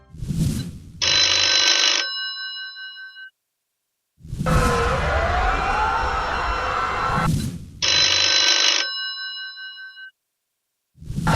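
A telephone in a political ad rings in two separate bursts of bright electronic tones, with a sweeping whoosh between them. The ringing is loud and close, and nobody speaks.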